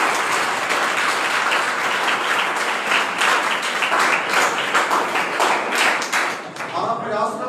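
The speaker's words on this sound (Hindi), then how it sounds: "अब ताली बजा सकते हैं।" Audience applause at a school gathering honoring students' exam results, a loud, dense, continuous burst of many hands clapping that tapers slightly near the end.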